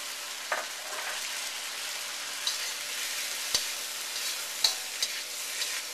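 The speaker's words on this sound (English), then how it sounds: "Now I toss in my squid," Squid tossed with green onion, garlic and black beans crackles in a hot wok, a steady close sizzle broken by a few sharp stirring clanks and scrapes.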